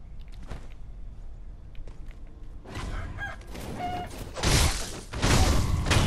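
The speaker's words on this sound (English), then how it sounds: "The chicken returns." Chickens cluck in the game Sekiro: Shadows Die Twice amid game noise and thuds, with the clucks growing louder and denser toward the end and no speech.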